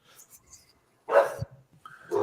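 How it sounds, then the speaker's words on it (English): A dog gives a single short, sharp bark that stands out against faint background sounds, followed by a brief softer vocal sound. "Quit barking. What are you barking at?"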